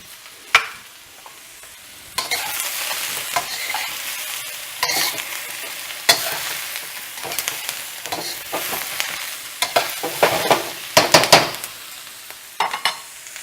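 Mushrooms, snow peas and celery sizzle loudly in a hot stir-fry pan as they are stirred, with scraping strokes and bursts of crackling that grow busier toward the end, no voices.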